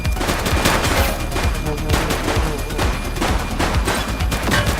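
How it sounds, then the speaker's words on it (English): Rapid, loud gunfire from a video game police shootout, a dense, continuous stream of close shots rattling steadily throughout with no gaps or voices. "Shots fired!"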